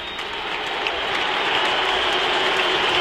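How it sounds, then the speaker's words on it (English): Continuous broad wash of crowd applause and noise from a large stadium at the 2014 AFL grand final, Sydney Swans vs. Hawthorn, steady and fairly loud throughout. "Barely a ripple of applause because the cause looks lost."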